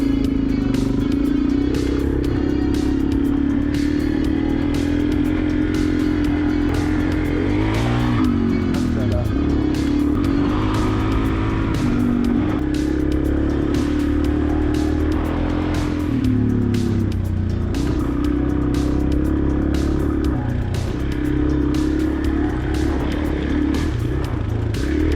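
Suzuki DR-Z 400 S motorcycle ridden along muddy, rocky local green lanes, its engine droning steadily and loud throughout with rising and falling revs and clattering over rough ground.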